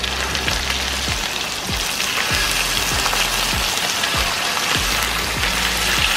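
Steak frying in a pan at a rainy campsite gives a steady, loud crackling sizzle throughout, with a series of low whooshing thumps repeating under it.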